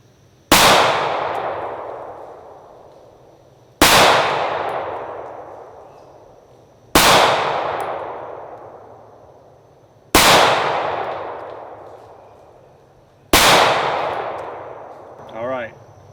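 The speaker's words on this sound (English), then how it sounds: "let's shoot again" Sig P226 Legion pistol fired at a steel target, five loud, evenly spaced shots about three seconds apart, each followed by a long ringing decay.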